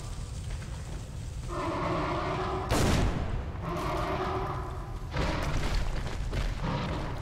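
Pipe bombs going off in Metro Last Light Redux: two or three heavy, booming blasts a couple of seconds apart over a low, rumbling game backdrop, loud and close.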